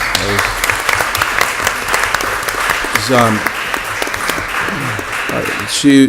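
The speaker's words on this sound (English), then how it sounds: "I guess we can clap first." Applause ripples through the room at a city council meeting, steady clapping of moderate loudness with several voices talking over it.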